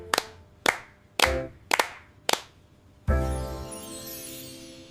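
Hand claps in a children's nursery rhyme kitchen dance: five sharp, close claps spaced about half a second apart, then a sustained ringing tone with music, no talking.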